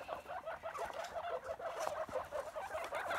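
Chickens cluck continuously in an outdoor enclosure during an Easter egg hunt, a soft, busy chatter of overlapping clucks heard at a distance.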